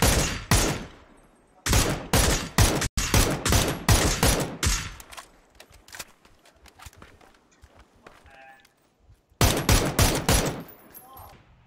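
Suppressed heavy cannon fire in a first-person shooter game comes in rapid, punchy bursts. A dense volley plays for several seconds, then a quieter pause, then another loud burst of shots near the end.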